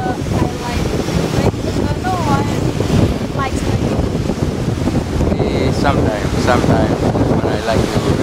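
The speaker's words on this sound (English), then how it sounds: "Enjoying my time here at St. Gigi Beach." Surf rolls in with steady wind buffeting the microphone at a beach on the Pacific coast of Indonesia, a continuous wash of waves, with faint voices in the background.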